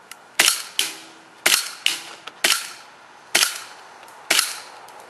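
Airsoft CO2 Desert Eagle pistol firing semi-automatic, seven sharp loud cracks spaced irregularly about half a second to a second apart, each with a short decaying tail.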